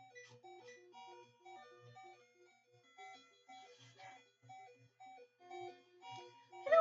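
Repeating electronic alarm beeps from a low-HP warning during a battle in Pokémon Yellow on a handheld console, looping in a steady rhythm alongside chiptune battle music, fairly quiet, with a louder burst at the very end.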